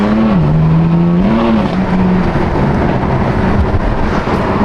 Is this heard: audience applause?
no